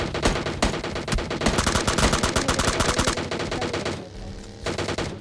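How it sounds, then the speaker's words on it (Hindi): Rapid M16 rifle fire in the PUBG Lite video game, sharp loud bursts of automatic shots in quick rhythm, pausing briefly near the end before a final shot. "वैसे यहाँ पे एक बंदा M16 बहुत चला रहा है, सुनो।"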